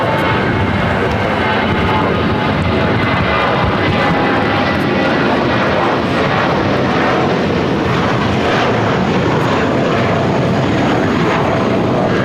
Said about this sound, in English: United Airlines 2019 taking off to San Francisco on the A320.